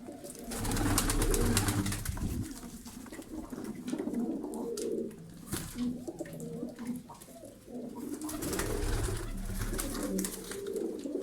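Several pigeons coo at a low level across the whole stretch, their soft, repeated calls overlapping against a faint background of noise.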